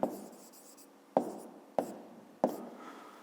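A pen writing on paper, with four sharp taps of the pen touching down, each trailing into a soft scratch. The strokes are close and quiet, with no talk.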